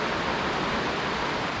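Heavy rain pours down on a sailboat at sea off Cape Verde, a dense, steady hiss that stays even and fairly soft throughout.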